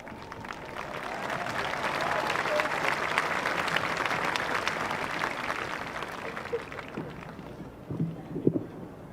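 A high school graduation audience gives a long, broad round of applause for the senior class, a steady, fairly distant roar of clapping that fades toward the end, with a few louder claps and voices near the close.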